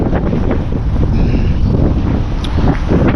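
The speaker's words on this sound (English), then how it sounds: "Oh my God, it's so windy." Strong wind buffets the microphone in a steady, loud roar with low rumbling gusts throughout.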